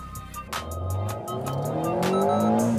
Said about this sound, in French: c'est une voiture qui fait 250 chevaux dans cette version-là, qui pèse environ une tonne